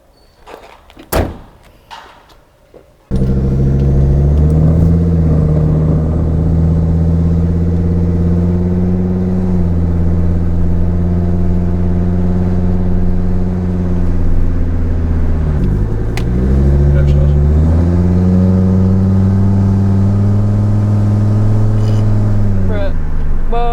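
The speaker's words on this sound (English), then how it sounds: "now I'll drive back and forth down the street once more, but this time I'll take you guys with me" A Volvo 850R door slams shut nearby after a few soft knocks, then the engine settles into a loud, steady drone that rises and dips as the car drives down a street.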